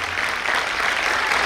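Steady applause from an audience at a live stage show, a brief continuous wash of clapping at moderate volume with no voices over it.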